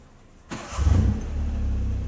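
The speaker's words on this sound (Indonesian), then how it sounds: "Kopling diinjek full. Persneling dicek persneling kiri dan kanan saja. Sudah? Baru di starter." A car engine is cranked and started with the clutch pressed in, a short starter whir breaking into a steady, loud idle that settles and holds.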